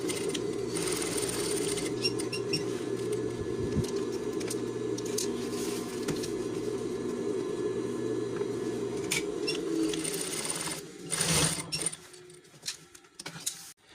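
A sewing machine runs steadily, stitching rain jacket fabric with a continuous close whir and patter, then stops near the end as a few clicks and handling knocks follow.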